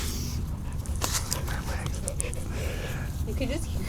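A dog whimpers and pants softly under close, constant chatter in a classroom discussion.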